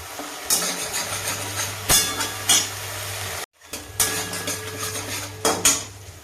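Tomato and turmeric being sautéed in a pan, a spoon scraping and clinking against metal in repeated strokes over a low steady sizzle, close and clear, with a brief cut midway.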